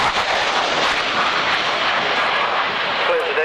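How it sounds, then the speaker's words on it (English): Blackburn Buccaneer jet making a low, fast pass at an RAF Waddington airshow in 1993, a loud, steady broadband roar filling the whole moment, with a faint announcer's voice present. "Running in high and low, low and fast from the left,"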